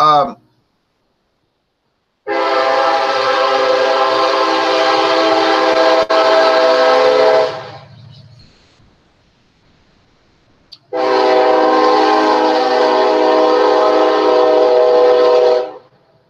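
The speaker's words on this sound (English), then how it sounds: "Kansas City Southern Railroad." A loud, sustained Kansas City Southern freight train horn blares twice, each long blast lasting several seconds, with the rumbling eastbound train running underneath and a short quiet gap between.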